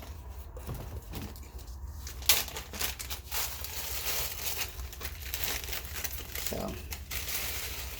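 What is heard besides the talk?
crackers being crushed in a small Ziploc bag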